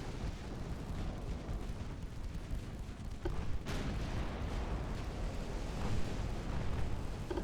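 Heavy battleship guns booming in Ultimate Admiral Dreadnoughts, deep rumbling salvos rolling under constant naval battle noise, with a sharper blast near the middle and louder swells toward the end.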